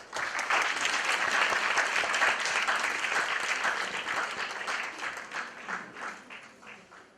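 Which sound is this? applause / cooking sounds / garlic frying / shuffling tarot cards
applause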